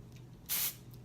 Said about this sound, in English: And then that's when you can spray it